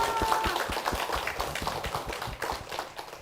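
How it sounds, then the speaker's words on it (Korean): A Korean church congregation claps for its senior pastor and the church, a fairly quiet, scattered run of distinct hand claps lasting about three seconds. "우리 담임 목사님과 교회를 위해서 힘찬 박수"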